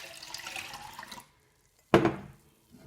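Orchid health cocktail solution poured into a container, with a short burst of liquid splashing near the end after earlier running-water sounds and a brief quiet gap.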